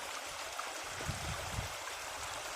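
Water flows from a canal into a pond, a soft steady rush with faint low gurgles, heard from a short distance and without talking.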